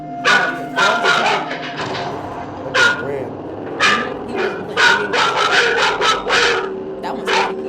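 Two dogs in a house bark and yip sharply in quick, agitated bursts, sounding spooked, with short whimpers between the barks and voices talking in the background.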